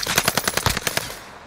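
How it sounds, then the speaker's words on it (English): Rapid automatic gunfire rattles out in a fast burst of about ten close, loud shots that trail off into echo, part of a Warzone match on Rebirth Island. "We're taking fire."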